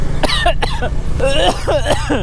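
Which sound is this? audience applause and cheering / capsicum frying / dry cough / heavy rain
dry cough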